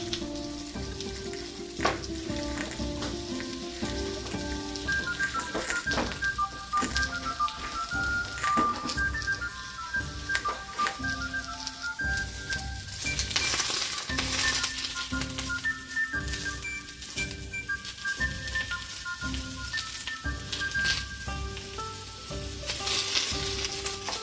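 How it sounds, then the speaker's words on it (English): Bacon and onions sizzle on a grill for a burger, a steady broad hiss with crackling pops and occasional clinks of a utensil running throughout, fairly close and alone without talk. "This is also a good time to start grilling up those onions and bacon from earlier."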